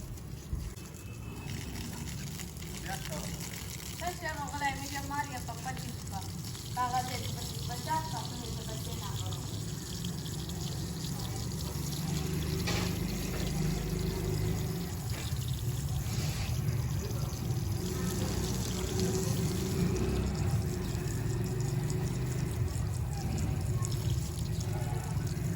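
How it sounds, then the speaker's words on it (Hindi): Water sprays and pours across a garden in strong sun, a continuous hissing rush under someone talking, growing a little fuller midway and holding steady to the end. "तो यहाँ से मैं पानी देता हूँ यहाँ दूर दूर तक"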